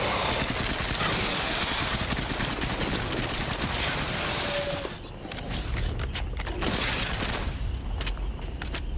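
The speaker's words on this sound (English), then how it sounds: "Called on my heavy turret." Heavy turret fire in the sci-fi shooter The Cycle: a loud, sustained barrage of rapid mechanical shots for several seconds, briefly dropping off and then resuming in sharper bursts amid clattering.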